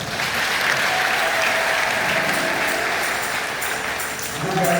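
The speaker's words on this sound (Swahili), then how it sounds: "Mafanikio tulipigie makofi kwa kazi kabisa." A church congregation applauds in a steady, dense burst of clapping that fills the room and holds loud and even throughout.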